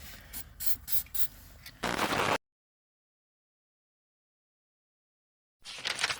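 A heavy coating is sprayed all around a car part: a few short hissing bursts, then a longer loud blast, a stretch of silence, and one more close spray burst at the end.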